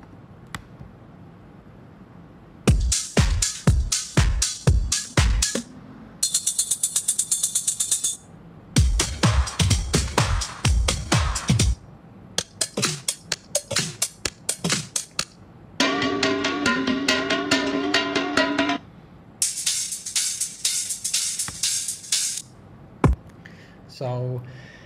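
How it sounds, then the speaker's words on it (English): A series of AI-generated drum hits plays in separate bursts: sharp percussive strikes, rapid clicky rolls, noisy cymbal-like washes and a tonal buzzing pattern, each group separated by short gaps of silence. "this network that learned how to come up with new drum sounds"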